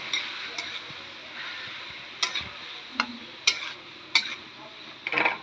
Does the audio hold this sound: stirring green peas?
yes